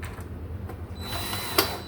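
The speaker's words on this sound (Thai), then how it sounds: "บางทีต้องใช้อุปกรณ์เครื่องมือช่วยนะครับ เพื่อความเร็วในการทำงาน ถ้าใช้ไขควงก็จะช้า" A power tool removes screws from the base of an Extra Pure alkaline water filter. A steady mechanical whir runs throughout, brightening near the end and ending in a brief sharp click.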